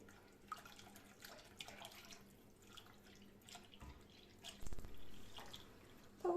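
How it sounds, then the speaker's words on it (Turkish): Cold milk is poured slowly into a pot for a chicken-breast milk pudding, giving a faint, soft trickle and occasional drips with a few louder knocks near the end. "Şimdi 1 litre soğuk sütümüz var. Yavaş yavaş sütümüzü ilave ediyoruz."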